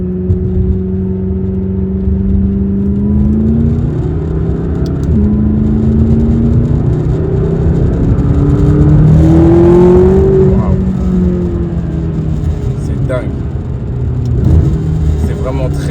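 A McLaren 570S sports car pulls hard, its engine note rising and falling through the revs as it accelerates, with someone talking over the steady roar inside the cabin.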